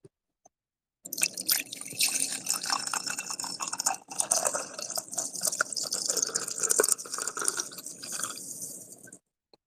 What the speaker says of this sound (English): I haven't even poured my coffee yet